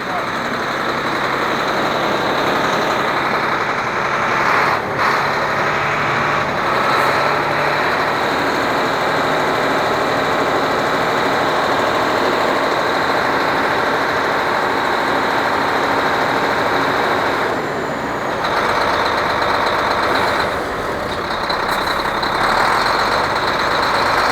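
New engine of a HOWO Ultra Max cargo truck running, a loud steady mechanical drone with a constant high whine, broken by a couple of brief dips, while someone talks over it.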